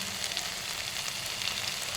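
Steady, close sizzling of potatoes frying in hot oil in a wok with rosemary leaves, a dense crackling hiss that continues evenly throughout with no voices.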